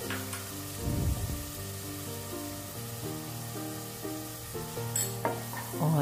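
Onions fry with garlic, ginger and green chili paste in a pan, a steady close sizzle with stirring and scraping throughout, no talk.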